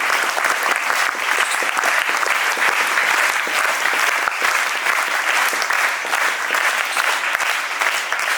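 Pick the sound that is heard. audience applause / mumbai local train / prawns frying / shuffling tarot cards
audience applause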